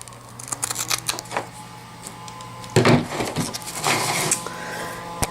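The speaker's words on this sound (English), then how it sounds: "First, I'm going to take my loop tape and cut 2 laundry tabs." Scissors snipping Velcro loop tape into laundry tabs for a cloth diaper cover, giving a few close, crisp cutting crunches and a longer rasping cut, with no talking.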